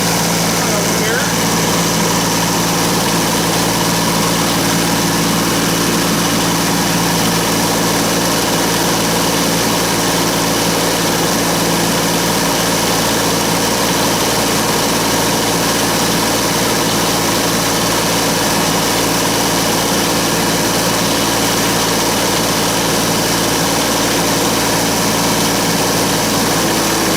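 An engine with no throttle control runs at a constant idle, a loud, unchanging low hum and vibration that drones on without pause.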